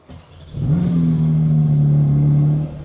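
A supercar's engine cranks and fires up for its first start, then settles into a loud, steady low growl with a slight rev, close by, before cutting off near the end.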